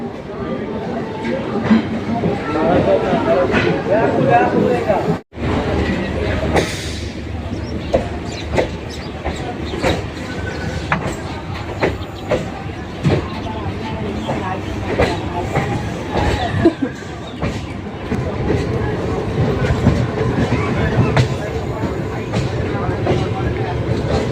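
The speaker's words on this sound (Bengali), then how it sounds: "আমার ট্রেন শিয়ালদা স্টেশন থেকে ব্যারাকপুরের উদ্দেশ্যে রওনা দিল" A Kolkata suburban local train (80000-series EMU) pulls out of Sealdah station bound for Barrackpore, with a steady loud rumble and rhythmic wheel clatter continuing throughout, briefly cut off once near the start, with voices faintly underneath.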